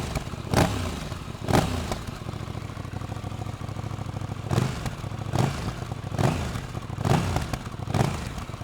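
A 2026 KTM 990 RC R sport motorcycle with its stock Euro 5+ exhaust is blipped six times over a steady idle, each sharp rev rising and falling quickly, loud and close with no talking.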